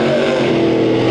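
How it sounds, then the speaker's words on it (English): Monster truck engines roaring under full throttle at a race start at a county fair, a brief, loud, dense mechanical bellow held steady throughout. "On the gas, over the jump."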